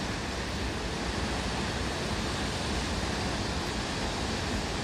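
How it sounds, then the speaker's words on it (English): Waterfall at Chania, a steady, dense roar of falling water, unbroken and fairly loud throughout, with no other sounds standing out. "So there we have the waterfalls."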